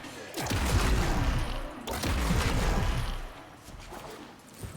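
Tenet Envoy weapon fired in the game Warframe: loud, dense bursts of blasts and explosive impacts, with a short lull in the middle before the fire picks up again. The sound fades toward the end.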